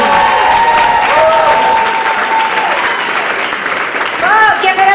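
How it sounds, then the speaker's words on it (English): Comedy club crowd at Gotham Comedy Club clapping and cheering for a comedian, loud dense applause with a musical tone and voices mixed in, thinning slightly near the end. "Ladies and gentlemen, start clapping up for Caroline Ceniza Levine"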